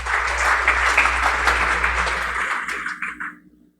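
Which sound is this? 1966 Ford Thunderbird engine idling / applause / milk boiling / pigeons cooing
applause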